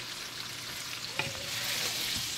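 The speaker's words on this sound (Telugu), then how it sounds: "ఇప్పుడు ఇలా వేగుతుంది కదండి, ఇది ఇలా మగ్గుతూ ఉంటుంది" Tomato pachadi with tamarind and salt frying in a pan, a steady soft sizzle broken by a sharp utensil knock and brief stirring scrapes midway.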